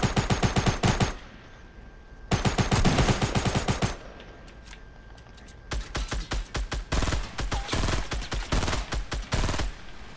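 Rapid bursts of automatic gunfire in the shooting game Fortnite, several loud sustained volleys separated by short pauses, the last stretch a long run of evenly spaced shots.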